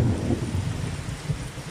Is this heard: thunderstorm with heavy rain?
yes